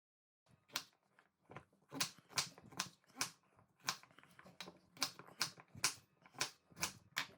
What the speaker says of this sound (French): Je vais couper le potiron en cubes.